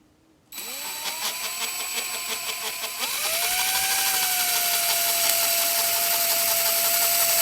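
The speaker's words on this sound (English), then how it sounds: "let's see if I can hold this and drill a hole in it." Hand drill fitted with a 1/8 inch bit spinning up and boring a hole, a sudden whirring start with a rising pitch, then a louder, steady whine as the bit bites and keeps cutting, close and alone.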